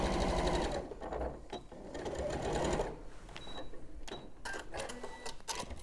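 A sewing machine stitches quilt fabric with a 1/4 inch foot in short close bursts of rapid whirring. Brief pauses and small clicks of handling fall between the runs.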